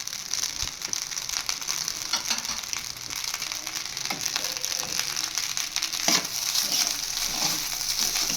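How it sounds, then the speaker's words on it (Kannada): Paneer fried rice being stirred in a pan after pepper powder is added: a continuous frying sizzle with scraping and stirring strokes, close and steady, with no voices. "ನಂತರ ಪೆಪ್ಪರ್ ಪೌಡರ್ ಹಾಕ್ಕೊಂಡು ಎಲ್ಲನೂ ಚೆನ್ನಾಗಿ ಮಿಕ್ಸ್ ಮಾಡ್ಕೊಬೇಕು"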